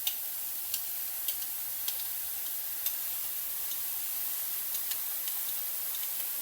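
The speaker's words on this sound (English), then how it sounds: "I'm going to saute some onions right along with them." Onions and mushrooms sauté together in a pot, a steady close hiss of frying with scattered small pops and ticks of spattering oil, no voices.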